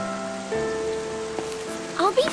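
Steady rain pours in a Final Fantasy XIII scene, a constant soft hiss under sustained musical tones, with a few brief sharper sounds near the end.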